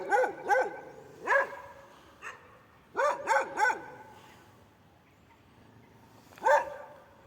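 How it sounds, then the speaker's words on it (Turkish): Two dogs bark toward the listener in short bursts, a quick pair, a single bark, then a rapid cluster of three and one last bark, fairly close with quiet gaps between. "Evet iki köpek bize doğru havlıyor."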